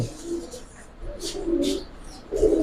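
Pigeons, including tagged males and females kept for sale, coo close by in short soft rolling bursts, a few calls spread across a couple of seconds over a quiet background with faint chirps.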